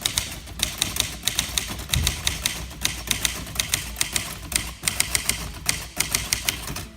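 Steady, rapid clacking of a 1963 Facit TP1 manual typewriter's keys, crisp and close, with brief pauses between bursts of strokes and no talking.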